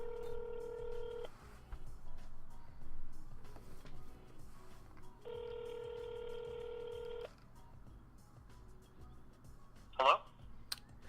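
Touch-tone DTMF dialing from a recorded telephone call: two bursts of steady multi-tone beeps, each lasting a second or two, separated by a pause, followed by a brief click near the end over faint background hiss.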